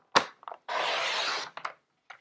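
A tool scores a fold line in cardstock while making a greeting card, heard as a close, soft, steady scraping stroke lasting about a second, with a few light taps and handling noises before and after.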